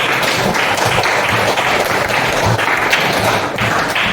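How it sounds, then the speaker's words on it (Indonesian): Loud, close clapping from a group in a classroom, fairly dense and steady throughout with a few thumps mixed in. "tepuk tangan buat Desi dulu."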